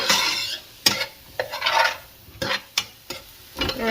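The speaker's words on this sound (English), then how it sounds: "we're going to saute this until it is translucent" Ingredients sizzle and hiss in a hot pan while being sautéed for creamy shrimp and grits, with a steady frying crackle and a spoon repeatedly scraping and stirring against the pan.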